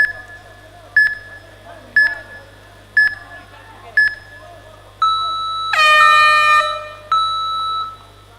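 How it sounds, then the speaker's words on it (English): At an amateur mixed martial arts match, an electronic round timer gives five evenly spaced countdown beeps a second apart, then a long, loud buzzing horn sounds, followed by another tone. "you'll hear the timer in the back"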